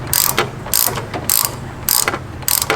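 A ratchet with a 5/8 deep well socket works loose a riding lawn mower spark plug, giving five short bursts of close, crisp clicking separated by brief pauses.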